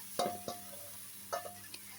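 Eggplant pieces are dropped into a hot pan with fish-head curry, producing a couple of sharp clattering impacts and brief sizzling bursts, quiet and close.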